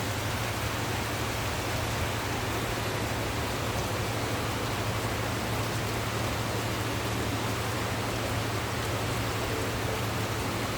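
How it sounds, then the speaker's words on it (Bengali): Heavy rain drumming on a tin roof, a dense, steady hiss with a low rumble that holds evenly throughout with no voices. "টিনের চালে বৃষ্টির শব্দ শুনতে কার কার ভালো লাগে"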